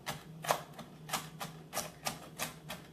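A knife cutting vegetables for a kale salad on a board, about eight soft, evenly spaced chops in under three seconds, faint and close, with no talking.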